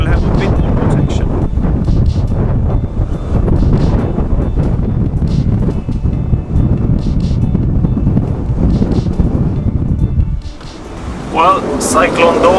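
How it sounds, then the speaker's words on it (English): Strong, gusty wind from ex-tropical Cyclone Dovi roars continuously against the microphone on a boat at anchor in Te Kouma Harbour, Coromandel, New Zealand, with a choppy low rumble throughout and a brief lull near the end. "The water is flat, but it's very, very, very gusty, very windy."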